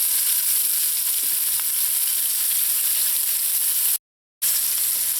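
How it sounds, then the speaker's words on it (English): Onions sauteing in hot oil in a pan give a steady, close hiss and crackle that runs unbroken apart from a brief cut near the end, with no talking. "When the oil is hot, add in the onions. I'll let this saute a little in here."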